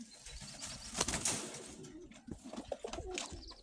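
Domestic pigeons, white-tailed fancy birds kept in a loft, coo softly in bursts with some wing flutter, close by and without talk.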